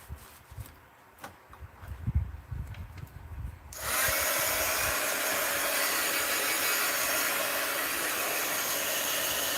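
A hair dryer or heat tool switches on partway through and runs loud and steady, drying paint on a mixed-media art journal page after scattered quieter handling noises.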